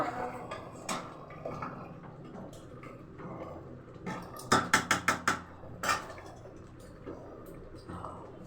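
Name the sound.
stirring potatoes in a cooking pan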